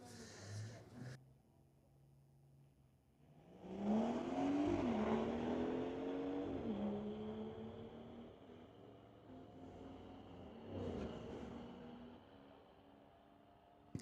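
A BMW drag car in a Sports Compact street-legal class launches and accelerates down the strip, its engine note climbing loudly through the gears, with a second surge of roar before it fades into the distance.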